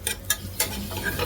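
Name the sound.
frying small shallots for kalathappam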